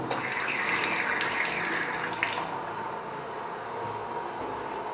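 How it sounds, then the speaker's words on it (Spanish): Water running continuously from a broken Roca Access toilet in a littered restroom, a steady hissing rush close by with little change in level throughout and no talk. "Y tira agua y todo"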